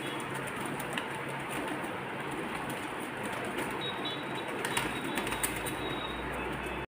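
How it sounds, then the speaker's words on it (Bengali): A flock of pigeons coos close by while feeding on scattered wheat in the morning. The cooing runs steadily under a dense, continuous outdoor hiss, with no speech. "পায়রাগুলো।"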